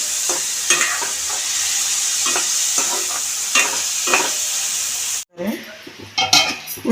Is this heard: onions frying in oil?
yes